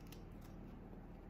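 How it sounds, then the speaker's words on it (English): Pinking shears snipping through fabric at a sewing table, a soft, close, continuous crunching cut with no talking. "I'm just going to cut these with my pinking shears"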